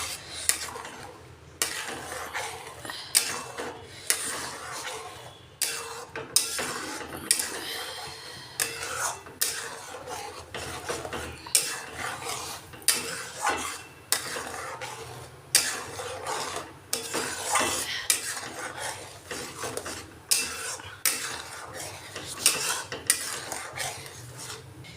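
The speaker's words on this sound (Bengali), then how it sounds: "দিয়ে আমি এটা ভালো করে নেড়ে নেড়ে এটা গুড়টা গলিয়ে নেব।" A spoon scrapes and knocks around a pan in repeated, rhythmic strokes while nolen gur, date palm jaggery, is stirred until it melts, heard alone and close.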